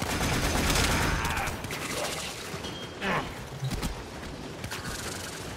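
Bursts of weapon fire in Warframe, rapid crackling shots layered over a dense, noisy combat background, with several sharper reports standing out near the end.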